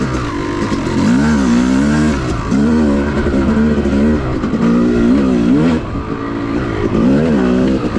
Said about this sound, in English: So you can probably tell we're in 4th gear. You know, I'm really lugging the bike.